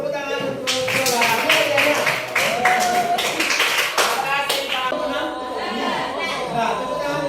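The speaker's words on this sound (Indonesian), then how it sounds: "tepuk tangan untuk salah" An Indonesian primary classroom bursts into a round of hand clapping, a dense patter of many hands nearby mixed with children's chatter and voices.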